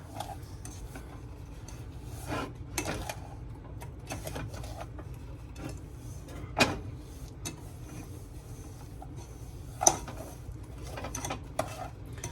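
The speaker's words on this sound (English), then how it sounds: "we are going to just stir this constantly" Butter and sugar being stirred constantly in a pot as they melt, with a faint utensil scraping and clinking against the metal in soft, irregular strokes and occasional sharper taps.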